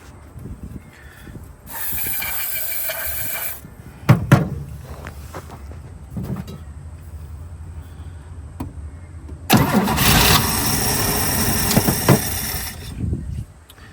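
An old car, run for the first time in over twenty years and reluctant in the cold, cranks on choke in two loud bursts with a mechanical clunk between them, the second catching and running briefly.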